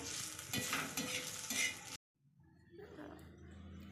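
Onions fry in oil until golden, a dense broadband sizzle with stirring clinks for about two seconds, then it cuts out and a quieter, softer sizzle returns close by.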